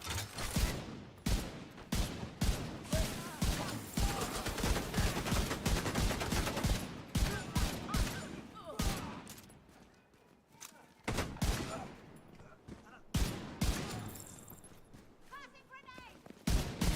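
Rifle gunfire in The Division 2 cracks out in rapid, repeated bursts, loud and close, with brief pauses between volleys and a player talking over much of the shooting.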